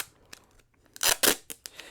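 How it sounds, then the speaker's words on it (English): Sharp scissors snip through Scotch 3M tape with a few crisp, loud cuts close by. Two heavier crunching snips sit in the middle, with lighter clicks of the blades before and after. "you want to have a nice sharp pair of scissors"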